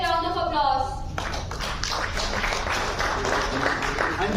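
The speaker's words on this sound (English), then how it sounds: "give them a round of applause" Audience applause for guests called to the stage at a Delhi study group event on India–Africa friendship, broad steady clapping filling the room after a voice fades, continuing throughout.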